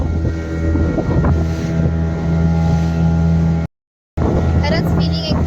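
Motorboat ride on the open Arabian Sea off Nivati beach in Konkan, a steady engine drone and wind buffeting the microphone, broken by a brief dropout before the rumble returns with faint splashing.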